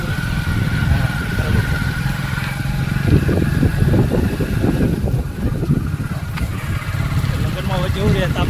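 Three motorbikes ride to a village wedding in the midday heat, their engines droning steadily and close by while someone talks over them.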